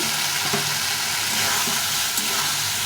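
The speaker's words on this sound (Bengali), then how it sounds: "এখন এই আলুটা দিয়ে দেবো, ভাজা আলুটা দিয়ে দেবো, দিয়ে ভালো করে কষিয়ে নেব।" Fried potatoes sautéing with a fish head in a pan for a Bengali fish-head, potato and tomato curry, giving a steady, loud, close sizzle with occasional stirring scrapes and no talking.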